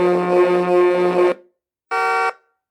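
Electronic horn effects from an RC truck sound and light system, a long sustained harmonic blast followed after a short pause by a second, shorter tone, loud and close with no talking.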